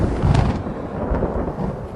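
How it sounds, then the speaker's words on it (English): A deep rumble of video game thunder rolls through steady stormy noise, with a brief crack early on and another swell of rumbling midway. "So purple is the thunderstorm."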